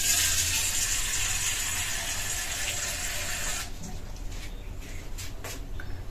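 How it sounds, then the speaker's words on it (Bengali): Tap water runs steadily into a cooking pot for boiling potatoes, a continuous close rushing flow that softens and thins partway through as the stream eases. "আন্দাজ মতো জল দেবো"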